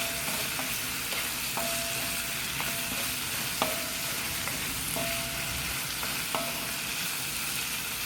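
Quail roast frying in a pan gives a steady hiss of sizzling oil with regular metallic clinks and scrapes of a spoon stirring, close and alone.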